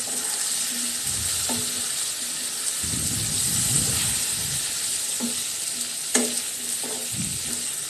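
Potatoes and bitter gourd stir-frying in spice paste for a Bengali fish curry, with a steady sizzle and hiss under scattered clinks of a spatula against the pan.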